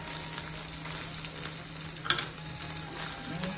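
Capsicum being stirred into ginger-garlic paste in a hot pan for paneer kadai, a steady low sizzle with soft scraping and one brief clink midway.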